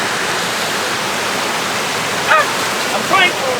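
Fresh water pours steadily at a waterfall used for traditional African bathing, a loud continuous rushing roar filling the scene with a couple of brief faint vocal sounds over it.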